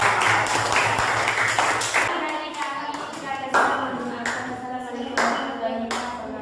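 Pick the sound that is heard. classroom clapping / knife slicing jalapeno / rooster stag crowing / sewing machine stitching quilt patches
classroom clapping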